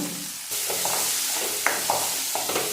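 Chopped onions frying in oil in a pan, a steady loud sizzle with a few stirring scrapes and clicks over about three seconds.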